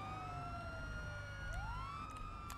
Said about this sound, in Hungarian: Az mentő